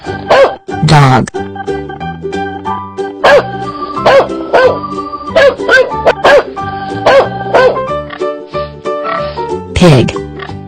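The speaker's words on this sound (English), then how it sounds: "Dog." A dog barks and yips in short, loud bursts, repeated irregularly among whimpering and other animal-like calls.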